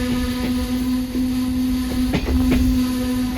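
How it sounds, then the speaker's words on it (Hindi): The Awam Express, a train running from Karachi to Tando Adam, brakes with a steady drone and a sustained tone, broken by a few short metallic clanks toward the end. "हमारी ट्रेन की ब्रेक लग चुकी है"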